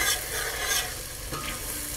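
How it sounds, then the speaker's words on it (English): Onions with chili powder are stirred in a hot pan for chole, a close scraping and sizzling with a few distinct spoon strokes over steady frying crackle. "I'm going to stir all of this."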